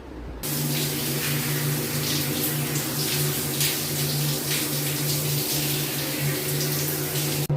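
Water pours steadily from a tap while hair is being rinsed after a shampoo wash, a constant close splashing flow that starts abruptly and runs unbroken without talk.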